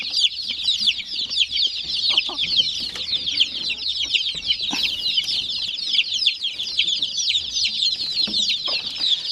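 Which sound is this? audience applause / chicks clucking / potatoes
chicks clucking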